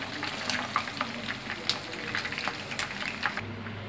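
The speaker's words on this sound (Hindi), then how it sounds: "फिर हम जितने भी हमारे बचे हुए विंग्स हैं हम सबको इसी तरीके से फ्राई कर लेंगे" Chicken wings deep frying in hot oil give off a steady, close crackling sizzle, scattered with sharper pops throughout.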